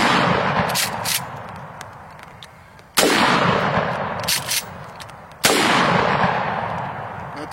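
Three loud shotgun blasts from Federal High Brass 6-shot shells, evenly spaced a few seconds apart outdoors, each a sharp report followed by a long decaying echo.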